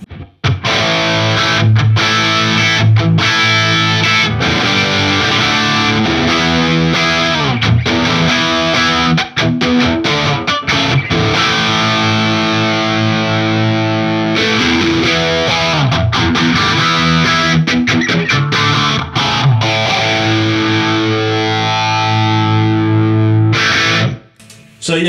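Electric guitar played through an Alta100 amp on its second channel in vintage voicing, with a touch of reverb in the effects loop, sounding loud, driven and distorted as continuous chords and riffs ring out for most of the passage.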